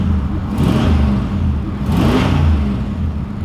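A V8 car engine idles with a low, steady rumble and is revved twice, each rev swelling and then falling back, close and loud with no talking.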